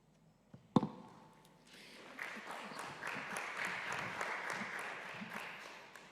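An audience at a high-level policy dialogue breaks into applause after a sharp thump, the clapping building from scattered hands into a sustained, fairly loud round.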